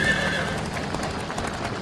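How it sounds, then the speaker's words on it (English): A frightened horse pulling a caravan along a road whinnies and neighs loudly and close by, with hoof clip-clop and some voices mixed underneath throughout. "The horse is frightened"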